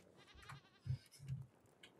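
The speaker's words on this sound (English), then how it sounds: "And then there's a goat here. Another goat." A goat in the Raft game bleats faintly, two or three short soft bleats a moment apart, alone with no talk.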